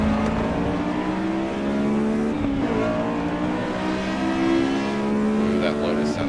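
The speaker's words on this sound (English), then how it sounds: "Ooh, that Lotus sounds nasty." Lotus engine revving hard in a racing video game, a steady high-pitched buzzing drone with rising harmonics and occasional tire squeal, held at full throttle, with a voice talking over it.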